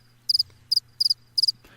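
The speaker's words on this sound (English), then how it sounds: "Cue the crickets." Crickets chirp in four quick bursts, each a rapid cluster of about three high, shrill pulses, evenly spaced and clear over a low steady hum, with no talking.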